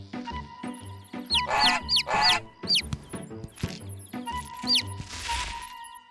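Chickens cluck and a chick peeps in short, repeated high chirps and clucks close by, irregular and moderately loud, with no voices.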